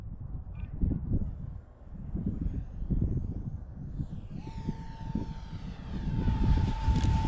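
A 50mm EDF RC model jet on its maiden flight roars steadily overhead, then a rising whine sweeps in partway through as it passes close, with no talk over it.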